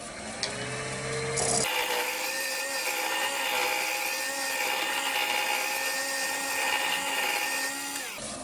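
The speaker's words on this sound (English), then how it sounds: "I'm just rounding it off with a round nose scraper, nice and gentle." Round nose scraper cutting ash wood spinning on a lathe, a steady close scraping whine over the motor's drone, continuous for several seconds and stopping abruptly near the end.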